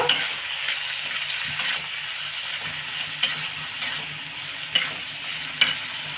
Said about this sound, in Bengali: শুক্তোর মশলাটা দিয়ে আমি খানিকক্ষণ কষে নেব।